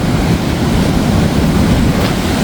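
Constant heavy surge of ocean waves breaking on the East Sea shore, a loud, continuous low roar close by.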